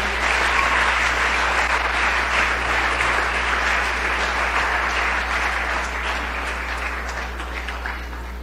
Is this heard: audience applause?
yes